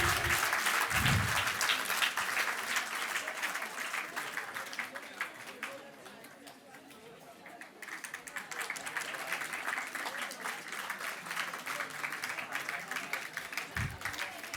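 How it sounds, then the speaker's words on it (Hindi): Sustained audience applause at a school award ceremony in Madhya Pradesh, steady dense clapping that dips midway and swells again, with a brief voice at the start and end. "तालियां लगातार बजाते रहिए।"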